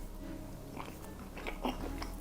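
Someone eating steak and chips, with soft wet chewing and a few crunchy bites close up, slightly louder toward the end, with no talking.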